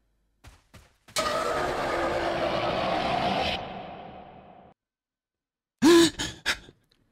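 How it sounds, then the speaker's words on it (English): Sudden jump scare in the horror video game Potrick Snap 2: a short gasp, then a long rushing breath that fades out, followed by a loud sharp burst of harsh breathing sounds. "the jump scare got me, but that breathing got me even more"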